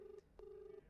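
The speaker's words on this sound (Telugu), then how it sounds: "లావణ్య ఫోన్ రింగ్ అవుతోంది" A phone ringback tone during an outgoing call, two steady tones at moderate level with a short gap between them and no talk over them.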